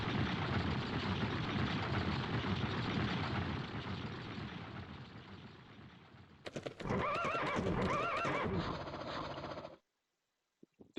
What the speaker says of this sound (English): those are horses, despite not looking anything like horses